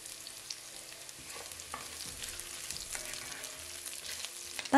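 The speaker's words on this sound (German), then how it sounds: "Ingwer und Kartoffel hinzufügen und kurz anbraten." Ginger and potato pieces frying in a pan for an Indian white cabbage dish, a steady close sizzle with occasional stirring scrapes, no talking.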